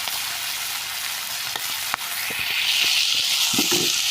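Chicken meat frying in a pan gives a steady, close sizzling hiss with scattered small pops and stirring clicks that grow slightly louder toward the end.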